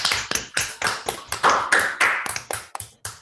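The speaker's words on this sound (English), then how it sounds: "we can thank Michał by applauding" A sparse handful of people clapping for a speaker after a talk on graph theory, a few distinct uneven claps close by, loud and brief with gaps between, no voices.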